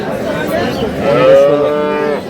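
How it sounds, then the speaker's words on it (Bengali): A cow with her calf at a cattle market in Aftabganj, Dinajpur lets out one long, close, loud moo that rises and holds before tapering off. "গাভী বাছুর আমরা দেখছিলাম।"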